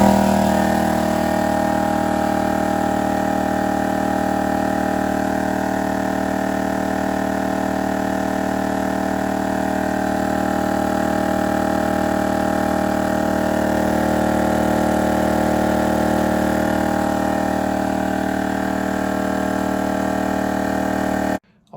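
ALL-TOP 12V portable off-road air compressor, 6.35 CFM, running continuously: a loud, steady motor drone with a dense mid-range buzz, holding constant for about twenty seconds before cutting off abruptly. Nobody speaks.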